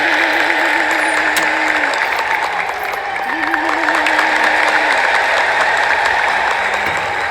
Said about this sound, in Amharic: እግዚአብሔርን ከፍ አድርጋችሁ እንድታመሰግኑልኝ ለአንድነቱ ለሶስትነቱም 3 ጊዜ እልል ብላችሁ